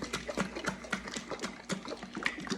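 Low-fat ranch dressing with apple cider vinegar being shaken in a container with an airtight lid, giving a steady run of close, rhythmic sloshing and rattling bursts with no talk.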